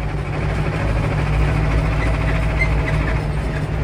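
A heavy Escort 335 tractor engine picks up speed, droning loud and close with a steady low rumble, holding a constant throb throughout without speech.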